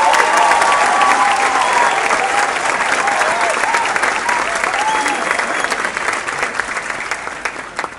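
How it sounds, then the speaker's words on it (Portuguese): Loud, sustained audience applause at a book launch speech, a dense wall of clapping from many people with a few voices faintly mixed in, easing slightly toward the end. "Uma salva de palmas para você"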